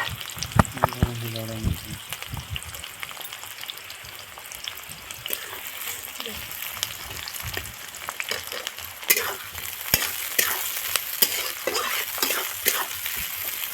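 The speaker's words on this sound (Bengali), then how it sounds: "কড়াইতে তেল গরম হয়ে গেছে, এখন পেঁয়াজগুলো ছেড়ে দিচ্ছি।" Onions fry in hot oil in a wok, a steady close crackling sizzle that holds throughout, with a few sharper pops and clinks over the frying.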